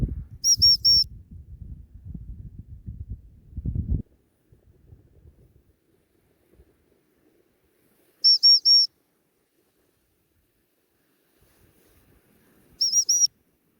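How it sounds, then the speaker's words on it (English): Short, sharp whistle bursts used to recall a dog at the beach ring out separately with long gaps between them, after some muffled handling noise at the start. "Now she's gone onto those rocks over there, so I'll give her the 3 whistles."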